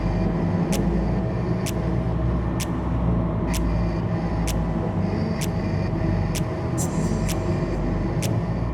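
A Nerea Yacht NY 40 motor boat's engines rumble loudly and steadily as the throttle opens, with constant low drone and wind noise, punctuated by regular sharp clicking ticks.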